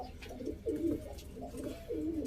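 Perçem pigeons, smoky grey, blue-spotted and white-tailed birds, coo in a loft in a few soft, low rolling phrases, close and moderately loud, with no talking over them.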